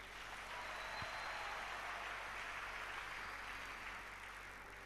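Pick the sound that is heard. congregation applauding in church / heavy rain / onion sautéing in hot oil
congregation applauding in church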